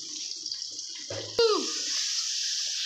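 Water trickles briefly into a pan of frying ground coriander and cumin spices, a short close splash followed by a rising hiss of sizzling.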